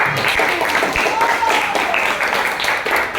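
Classroom applause for a student after an answer about primary, secondary and tertiary needs, a steady patter of many hands clapping close by for about three seconds with children's voices mixed in.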